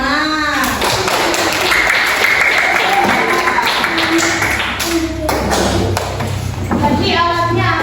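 Classroom applause, a loud burst of hand clapping from a group of students mixed with taps, thuds and overlapping chatter.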